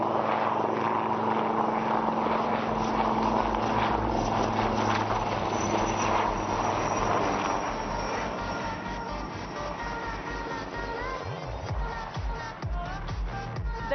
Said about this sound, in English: This extreme tail-up maneuver demonstrates the razor-sharp response and control power